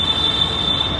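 Blue Line metro train, a short burst of steady rumble with a sustained high wheel squeal cutting through, close and loud, without voices.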